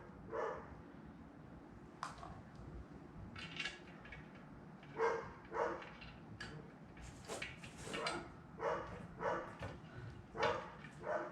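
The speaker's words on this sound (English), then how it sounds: "those dogs just never stop barking" Neighbouring dogs bark on and on, faint and distant, with scattered single barks at first and then a quicker run of repeated yaps, heard from a quiet garage during an engine build.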